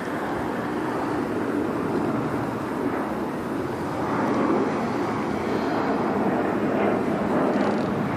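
An airplane passes overhead as a broad, steady rumbling roar that swells slightly and holds throughout, with no talking.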